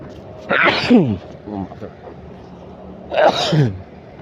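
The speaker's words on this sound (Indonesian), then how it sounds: "maaf teman-teman, bersin ya" A man sneezes twice, loud and close, about three seconds apart, with a breathy intake before each burst and some quiet talk between them.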